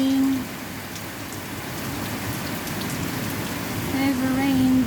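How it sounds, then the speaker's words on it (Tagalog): Heavy rain pours steadily and close, a dense unbroken hiss of drops that holds at an even loudness throughout and swells slightly near the end. "Heavy rain, there it goes."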